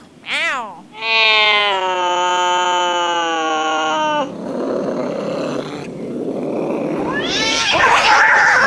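Cats yowl loudly up close: a short cry, then a long drawn-out wailing meow, followed by growly murmurs and another rising yowl.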